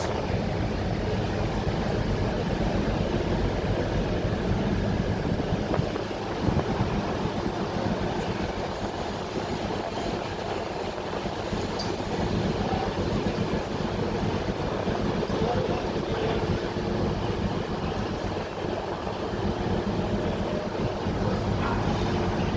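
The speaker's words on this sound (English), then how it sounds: "this is 1632 Stainless Steel Pioneer on this freight" A freight train led by locomotive 1632 Stainless Steel Pioneer rolls through Nottingham station with a continuous steady rumble and rattling wagons, loud and unbroken throughout.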